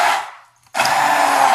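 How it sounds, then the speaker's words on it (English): An immersion blender whirs through a roasted red pepper and sweet potato bisque, running loud, cutting out briefly, then starting again with a sharp onset and a steady high motor whine. "I use the emulsifier, and it works beautifully"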